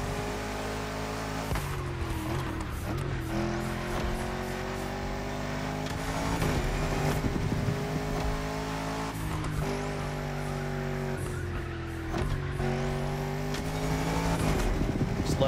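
Lamborghini Countach V12 howling through a racing lap in The Crew Motorfest, loud and close, its pitch climbing and dropping through gear shifts with brief tire squeal, no talking.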